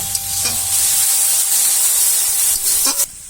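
Dried chili paste and salt frying in oil for a cabbage dish, a steady close sizzle and hiss that fills the clip with a few brief stirring scrapes.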